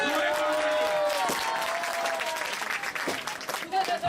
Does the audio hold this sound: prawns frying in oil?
no